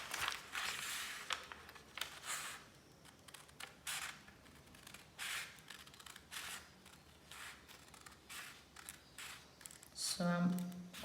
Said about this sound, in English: use my scissors to start a cutting point on the line